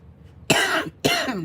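Two separate harsh coughs, close and fairly loud, each a short burst with a brief gap between them, from a person crafting a simple New Year card.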